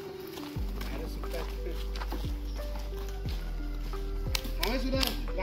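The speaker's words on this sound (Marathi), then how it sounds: "चालला नवीन बैल आपला." A bullock, newly bought to pull a bullock cart, plods along with its hooves clopping in a slow, irregular rhythm. The steps sound close and distinct against a low continuous hum, while people talk nearby.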